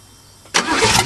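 An old Cheviac car's engine is cranked on a cold start. After about half a second of quiet the starter kicks in, a loud close grinding whir that holds steady to the end.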